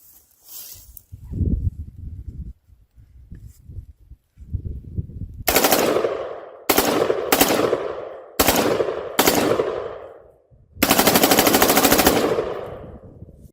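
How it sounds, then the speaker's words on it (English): An M4A1-style AR-15 rifle fitted with a three-position Arizona regulator fires outdoors in several short, loud bursts of a few rounds each, separated by pauses, then ends with a longer sustained burst emptying the magazine, with quieter rumbling before the shooting begins. "I'm going to do short 2 or 3 round bursts. And then on the last one, I'll maybe mag dump the whole thing."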